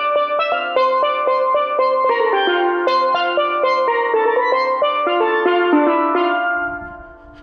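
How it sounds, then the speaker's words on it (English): Steel pan playing a fast video game music theme, a bright run of ringing struck notes in a steady rhythm, loud and close, fading at the end. "Steel pan!"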